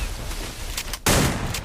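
Sniper and gunfire shots in the Free Fire video game: a sharp, loud shot bursts out about a second in after a run of lighter, faster pops.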